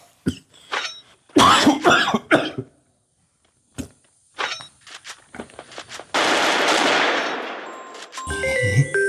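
A few rough coughs come in bursts with pauses between, followed by a dense hissing rush and some clattering at the end.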